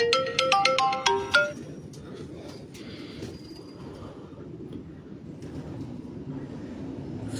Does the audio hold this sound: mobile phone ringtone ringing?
yes